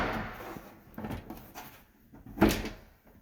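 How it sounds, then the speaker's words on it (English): A fallen door lands with a sudden wooden knock and rattle amid scattered handling thumps during a fiber drop repair job, moderately close with no speech. "The door fell."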